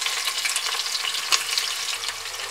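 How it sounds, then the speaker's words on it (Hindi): Finely chopped onion fries in a pan of hot whole spices for an arbi keema, giving off a steady, dense sizzle and crackle with no pauses, close and moderately loud. "प्याज को हम अच्छे से फ्राई कर लेंगे जब तक इसका कलर चेंज नहीं हो जाता"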